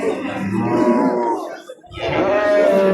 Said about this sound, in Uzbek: Ona bola sigir.